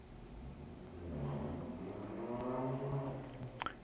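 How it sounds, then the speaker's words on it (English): A noisy passing car engine drones at a distance, swelling and slightly rising in pitch as it goes by, steady and fairly faint without talk. "Don't know if you can hear that particularly noisy car."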